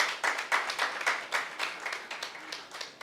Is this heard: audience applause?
yes